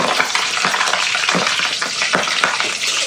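A pork leg deep frying for crispy pata, hot oil sizzling and crackling steadily up close with occasional louder pops and spatters, no talking.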